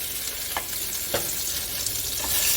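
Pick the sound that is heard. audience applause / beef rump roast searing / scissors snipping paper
beef rump roast searing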